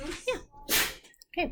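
A single quick sneeze bursts out between brief snatches of nearby speech.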